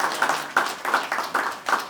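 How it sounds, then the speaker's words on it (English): A small group claps in uneven bursts, a handful of distinct close claps repeating in a loose rhythm over two seconds, no talking. "And I think they deserve a round of applause."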